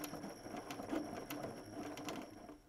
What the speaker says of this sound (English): you're just gonna sew right off the point and not do a back stitch